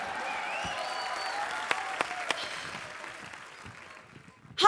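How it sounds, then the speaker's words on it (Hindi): Studio audience applause on a comedy talk show set, a steady wash of clapping with a few sharper claps standing out, fading toward the end before a brief louder burst. "मैं ताली का नेटवर्क चेक कर रहा था कि आ रही आवाज कि नहीं आ रही"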